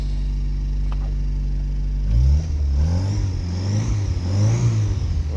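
An Austin Allegro engine with a squealing alternator idles with a steady low hum, then revs up and down in several rising and falling surges, close and loud with no voices.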